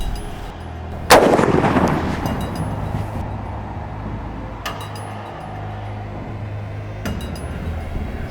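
A single loud rifle shot cracks out during a mountain hunt for aoudad (Barbary sheep) in Alicante, with a sharp onset and a long echoing tail rolling across the slopes, followed by quieter ambient rumble.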